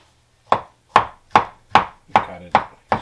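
A knife cuts a whole avocado for fish ceviche with seven crisp, evenly spaced chops on a board, each a sharp close knock with a short tail. There is no speech.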